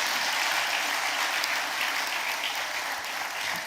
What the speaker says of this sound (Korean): 다시 한 번 더 크게 박수해 주시면 감사하겠습니다.